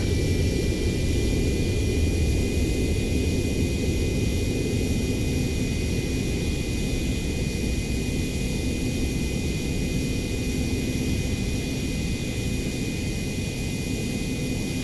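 A jet aircraft lands in the Ace Combat 7 video game, with a loud, steady roaring rush of engine and wind noise that holds constant throughout and has a thin high whine above it.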